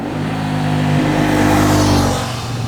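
Honda XL750 Transalp motorcycle engine revving steadily at close range, a continuous mid-pitched throb with a slight rise and fall in loudness and no voices.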